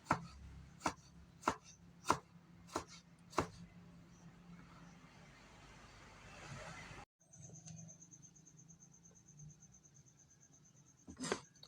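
A knife chops tomatoes on a board for a Visayan sautéed ginamos dish, giving six sharp, evenly spaced cuts close up, then a brief quieter stretch of kitchen noise with a faint high tone.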